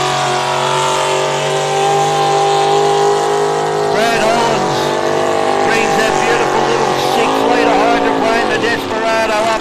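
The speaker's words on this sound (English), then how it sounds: "The aeroplane fires up the 27 litre supercharged Rolls-Royce Merlin V12." A racing boat powered by a 27-litre supercharged Rolls-Royce Merlin V12 roars loudly at Lake Eppalock during the Eppalock Cup, its steady droning note rising and bending as it passes, with commentary heard over it.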